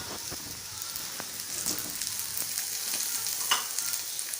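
Sliced potato rounds fry in a pan, giving a continuous gentle sizzle with light crackles and occasional soft scrapes as they are turned.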